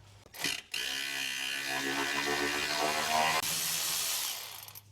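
A wrench works loose a rusty 10 mm bolt on a Mk3 Supra, making a quick rattle followed by a long, close, continuous ratcheting grind that stops abruptly.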